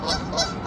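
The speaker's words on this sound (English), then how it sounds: "The two Canadian geese on the ground do not want this one around" Canada geese on the ground give loud, close, repeated nasal honks in quick succession, with no talking.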